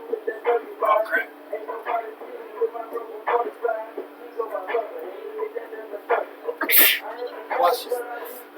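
A single sharp sneeze bursts out amid steady nearby conversation among spectators at a college lacrosse game.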